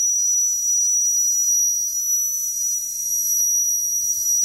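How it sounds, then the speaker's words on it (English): A small steam engine's whistle holds one steady, high-pitched, piercing tone throughout, with a faint hiss beneath and no talking. "wow, cool little whistle to go along with it"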